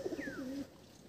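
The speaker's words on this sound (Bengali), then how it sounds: "খুব সুন্দর বাঁধানো লেজ আছে, দারুণ পায়রা" A desi pigeon in a loft gives one short, soft, warbling coo, close by, with a faint higher whistle over it, then it falls quiet.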